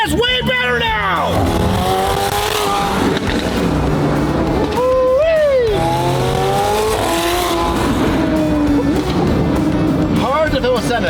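A McLaren Senna drives hard and loud, its engine revving up and down in repeated rising and falling sweeps, with tyre noise and people's voices mixed in throughout.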